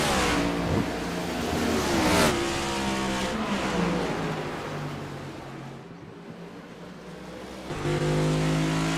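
A Chevrolet Camaro NASCAR Next Gen Cup Series race car at full speed on the Phoenix track during the championship round. The close, loud, roaring engine drone shifts pitch as the car accelerates and lifts, with a brief dip before the power comes back.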